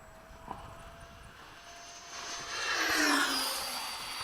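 A Freewing 70mm F-35 RC model jet taxiing out, its electric ducted fan whining faintly at first, then rising to a louder high-pitched whine and rush before easing slightly, with no talking.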